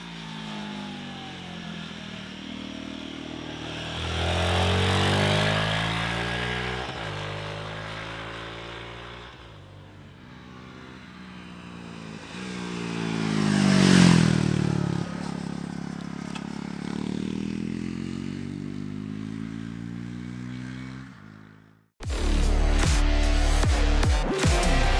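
A Royal Enfield Guerrilla 450 engine roaring steadily on an Austrian mountain pass road, rising and falling through the gears, loud and close, with a sudden louder burst near the end.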